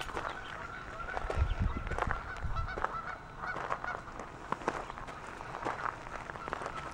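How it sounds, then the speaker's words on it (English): Geese honking repeatedly in a noisy flock at a historic park, with overlapping calls and some flapping or movement, fairly close and steady throughout. "pardon the geese"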